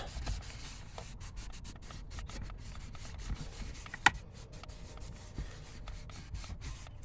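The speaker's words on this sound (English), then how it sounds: "Alcohol cleaning it down." A cloth wipes a surface clean with alcohol while fitting an electric trailer brake controller in a GMC Acadia, giving a soft continuous rubbing that runs throughout with one brief sharp tap partway through.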